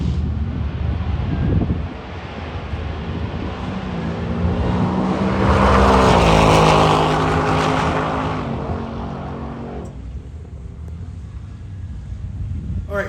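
A supercharged 2024 Roush Mustang with an automatic transmission roars down a drag strip, the engine note climbing through the gears to a loud peak mid-run before fading into distant rumble.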